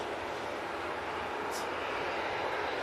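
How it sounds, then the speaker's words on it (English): Qatar Airways Boeing 787-9 Dreamliner departing Manchester Airport for Doha, a continuous broadband engine roar that stays steady and fairly loud throughout. "Qatar 787-9 Dreamliner going back to Doha"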